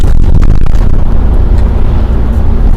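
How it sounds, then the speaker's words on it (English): Oncoming traffic sweeps past a moving car on an open road, a loud, continuous rush of tyre and engine noise with a brief swell early on, heard from inside the vehicle. "oncoming traffic"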